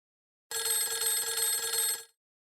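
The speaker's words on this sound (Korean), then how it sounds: "그날 저녁 서울에 살고 있는 아들 민수에게 걸려온 전화 한 통이 이 평범한 노부부의 일상을 완전히 바꿔놓았습니다." An incoming phone call rings at an elderly couple's home: one bright, rapidly trilling telephone bell burst of about a second and a half, breaking out of silence and cutting off cleanly, with no voices.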